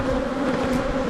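A dense swarm of honeybees hums steadily around an open hive box full of brood frames, a loud continuous buzz close by with no talking.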